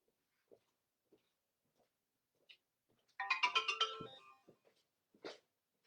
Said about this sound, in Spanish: Este es el teléfono.